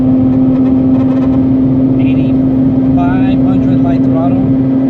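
A Mazda RX8 rotary engine held at 8,000 rpm on light throttle, a loud steady high-revving drone with a faint rattle, while a person talks over it.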